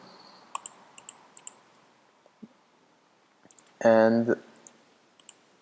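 Computer mouse clicks on a radio streaming control panel: a handful of quiet, sharp clicks spaced a few tenths of a second apart, with a single short spoken word partway through.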